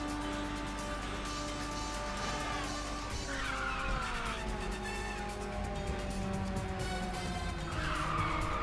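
Race cars roar through a race in the video game Ridge Racer 6, with sustained engine drones, rising whines and tire squeals layered densely and loudly throughout.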